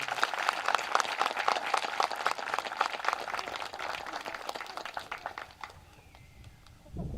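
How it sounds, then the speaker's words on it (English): Sustained applause from an audience at a second grade moving-up ceremony, a dense crowd clapping for several seconds before thinning out and dying away near the end. "Give yourselves a big round of applause"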